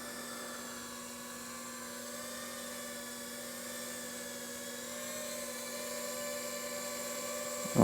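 A Skyliner MK3 FPV drone hovers and flies nearby, its small motors giving a steady, thin high-pitched whine that shifts slightly in pitch, with a brief louder bump at the very end.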